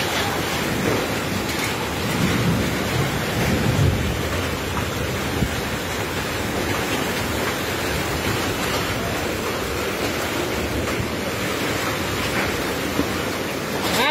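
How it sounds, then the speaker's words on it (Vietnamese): A hailstorm in Saigon, with hail and heavy rain pouring down in a dense, steady roar that stays loud and unbroken throughout, and no voices heard. "Quá trời mưa đá rồi, mưa cục nào cũng lấy chào bá luôn bà con ơi."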